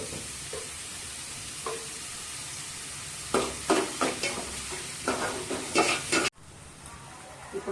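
Onions frying with a pinch of salt in a pan for a spinach and amaranth greens fry, a steady soft sizzle broken by several louder bursts of stirring and scraping in the middle, then briefly cut off before the sizzle resumes.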